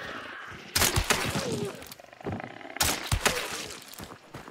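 Two sharp, booming gunshots from the Ember, a weapon in the Hunt: Showdown video game, each sudden and loud with a short, rumbling tail, about two seconds apart.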